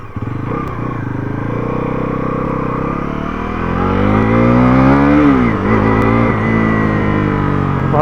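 A Bajaj Pulsar NS400Z motorcycle is ridden close by, its engine note loud and steady, then rising through revs in a swelling pull around the middle before easing and climbing again.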